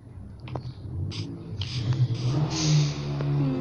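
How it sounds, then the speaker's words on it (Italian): A moped passes by outdoors, its small engine rising and falling in pitch as it nears and pulls away, heard alone with no talking. "se sentite qualche motorino passare, non ci fate caso"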